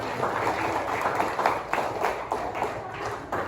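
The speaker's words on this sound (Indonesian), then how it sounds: "Tepuk tangan." Schoolchildren in a grade 4 and 5 classroom clap their hands together, a rapid scattered patter of claps at moderate distance, fairly soft and steady.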